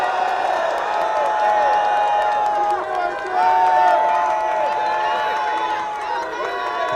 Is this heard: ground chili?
no